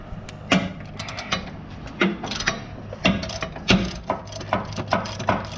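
A ratchet with a deep 21 socket works an upper control arm bolt on a 2002 Chevy Silverado during a front end rebuild, making close, repeated sharp clicks and clunks in irregular bursts with no talk.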